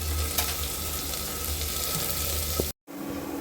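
Chana dal tempering sizzles loudly and steadily in a pan close by, a dense frying hiss that cuts off abruptly near the end before faint sizzling resumes.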